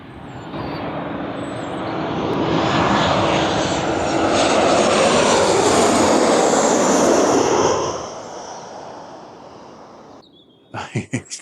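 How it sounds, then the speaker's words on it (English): A Ryanair Boeing 737 jet roars in to land at Lanzarote Airport, its engine noise swelling from a distant rumble to a loud, broad whine overhead and then fading away, followed by a few brief knocks. "I think we've got a 737 coming in there"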